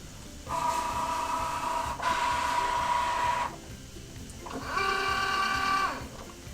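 A Cricut Joy cutting machine feeds glitter iron-on vinyl without a mat, giving three close, steady motor whirs separated by short pauses, with a faint background hum between them.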